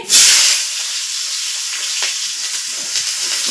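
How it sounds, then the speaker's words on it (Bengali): Bay leaves, whole cumin and chopped onion hit hot oil with a sharp loud burst, then settle into a steady close sizzle with light crackles and stirring. "তেলের মধ্যে দিয়ে দেব তেজপাতা গোটা জিরে পেঁয়াজ কুচি"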